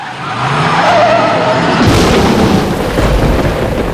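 A film sound effect: loud tires screech in a long skid and then break into a rough roaring car rumble, close and intense.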